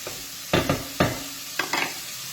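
Beef pieces browning in a pan over high heat, a steady sizzle punctuated by several sharp scraping stirs of a spatula, close and clear.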